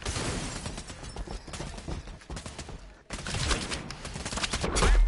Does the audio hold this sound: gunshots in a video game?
yes